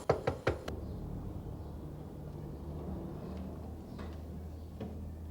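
Three sharp knocks on a door at the start, close and distinct, followed by a quiet room with a low steady hum and a few faint taps.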